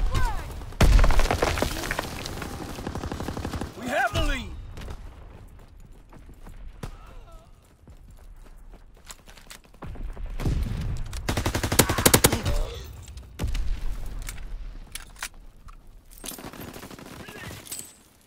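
Heavy gunfire in the WWII shooter Call of Duty: WWII, with dense machine-gun bursts and loud close shots over a noisy battle that comes in waves and eases off between bursts, with a few shouted voices.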